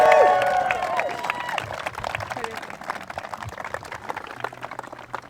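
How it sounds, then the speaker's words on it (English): Sustained applause from wedding guests, loud at first and gradually thinning out, with scattered claps and murmuring voices over the clatter. "I think that deserves another round of applause"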